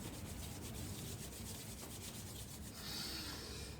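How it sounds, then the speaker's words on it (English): Palms rub briskly together during an energising seated movement routine, a soft, close, continuous dry swishing with faint rhythmic pulses, quiet and with no talking. "you can bring your hands and rub them together"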